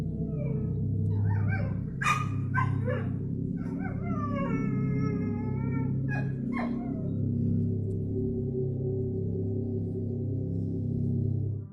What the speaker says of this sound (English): disturbed by her dog's persistent and agitated barking